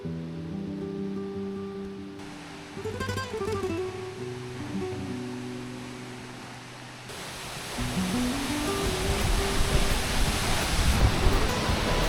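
A strong waterfall pours down with a steady rushing roar that grows heavier and louder in the second half, set along a Spanish rail-trail cycle route, with faint tonal sounds earlier on.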